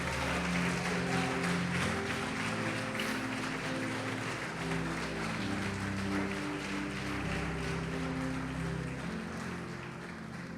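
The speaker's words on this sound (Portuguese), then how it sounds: "Pode aplaudir, adorá-lo e glorificá-lo." Applause from a church congregation during a sermon, a steady broadband patter of many hands filling the room continuously, with a music or organ drone sustained underneath.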